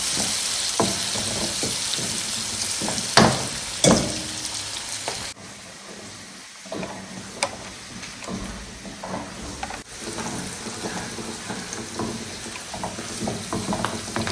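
Curry powder sizzles and fries in hot oil as the base for an assorted meat stew, a steady crackling hiss with occasional stirring clatters, no voices.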